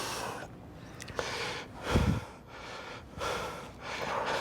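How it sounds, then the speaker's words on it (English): Heavy breathing during a weight training set comes as rhythmic, loud inhales and exhales close to the microphone, several breaths in sequence with a sharper gasp midway. "All I can hear is your breathing."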